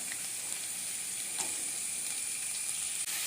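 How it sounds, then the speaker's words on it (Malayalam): Onions frying in a pan for fried rice, giving a steady, close sizzle with a constant bright hiss and faint stirring clicks throughout, no voices. "ഇനി നമുക്കിതിലേക്കൊരു 100 ഗ്രാം സവാള ഇട്ട് കൊടുക്കാം."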